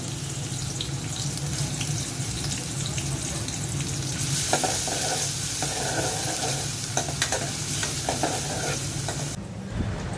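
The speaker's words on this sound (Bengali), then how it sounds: "তেল দিয়ে দিচ্ছি, পেঁয়াজ দিয়ে দিচ্ছি" Onion frying in oil in a cooking pot, a steady close sizzle with intermittent stirring scrapes through the middle and a sudden change near the end.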